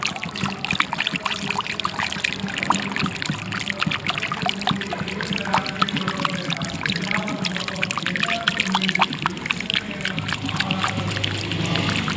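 Liquid is strained and poured while clay is made by hand, producing a steady, close trickling and splashing that runs continuously with small irregular drips.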